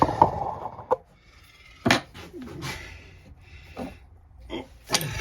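Bolts come undone on a 1947 JAP 5 rotovator engine, with scattered metallic clicks, scrapes and a few sharp clanks of a spanner against the fittings, close and intermittent.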